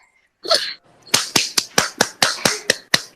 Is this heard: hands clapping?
yes